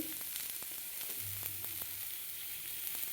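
Hot oil sizzles steadily in a pan for tempering with cumin, a continuous close hiss dotted with small sharp crackles and pops.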